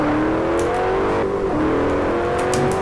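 A car engine drifting in the racing game Forza Horizon 1, a steady droning tone that rises and dips in pitch, with a few brief hissing bursts of tire noise over the top.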